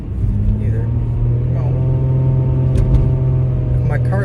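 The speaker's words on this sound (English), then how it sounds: "My car sounds like it's about to die." A struggling car engine runs at a steady, loud, low rumble that fills the whole stretch, with a voice talking over it.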